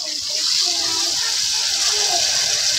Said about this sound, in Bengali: পরিমাণ মতন একটু জল দিয়ে দিতেছি।